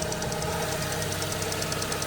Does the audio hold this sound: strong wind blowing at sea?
no